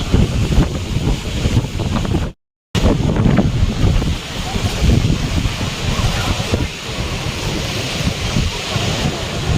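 Rough, churning sea waves at Old Digha beach in the evening, a loud continuous roar of surf mixed with heavy wind buffeting the microphone, briefly cut out by a dropout partway through.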